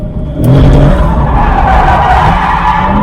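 A C6 Corvette drifting, its tires skidding and squealing loudly in one sustained, close screech over the engine's roar.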